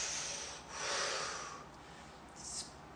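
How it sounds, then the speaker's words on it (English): Breathing in through the nose during a stretching routine, close and soft airy inhalations that swell and fade a couple of times, with no talk. "breathing in my nose."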